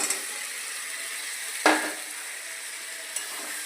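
Papaya, potato and radish sizzle steadily in hot oil in a pan, a continuous close hiss broken by a sharp scrape of stirring midway and a faint clink near the end.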